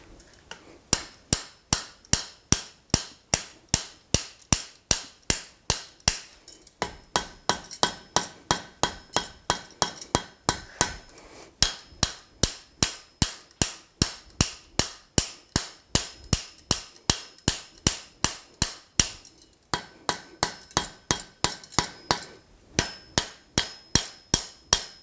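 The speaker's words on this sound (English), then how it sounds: "So we're going to try to upset this back to maybe 1 inch and then kind of work it out." A blacksmith hammers steel stock to upset it for box jaw tongs, sounding sharp ringing blows in fast, even runs with brief pauses between groups, loud and close.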